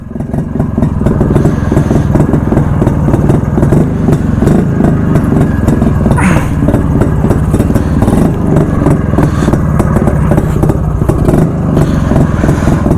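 Yezdi Roadking motorcycle engine, carbon just cleaned from the plug, running steadily after starting, a loud continuous close-up thump and clatter with slight revving throughout.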